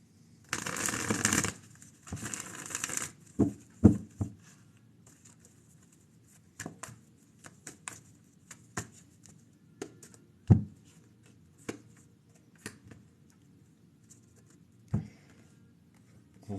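A tarot deck shuffled in two brisk rustling bursts, then a series of soft taps and clacks as the cards are cut, squared and set down, close and quiet.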